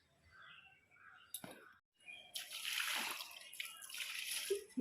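Water poured at the base of a tulsi plant outdoors makes a soft splashing rush. A quieter, broken patch comes first, then a steady pour runs to the end.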